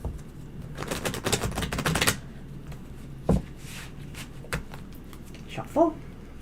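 Tarot cards are shuffled in a dense burst of rapid riffling clicks for about two seconds, followed by a few soft isolated card taps and a brief low voiced murmur, close and moderately loud.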